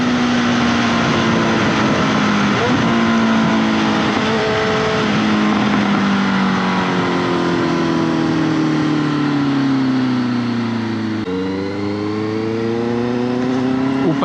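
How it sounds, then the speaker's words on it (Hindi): A motorcycle's exhaust roars continuously while riding on an open road, loud and close, its pitch climbing and dropping through gear changes with no voices over it. "और वो एग्जॉस्ट नोट बिल्कुल MotoGP की फील दे देता है।"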